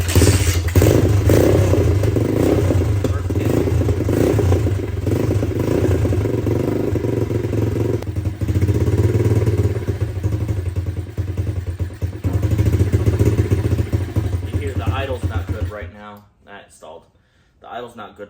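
Apollo RFZ 110cc dirt bike engine in neutral, loud and close, running with a steady rough low idle and brief throttle blips, with some clatter, before it cuts out near the end.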